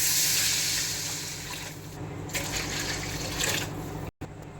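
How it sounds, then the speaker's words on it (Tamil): Water poured from a vessel into a cooking pot, a continuous splashing gush with brighter bursts near the end, close and without voices. "நம்ம 2 சொம்பு தண்ணி ஊற்றிக்கலாம்."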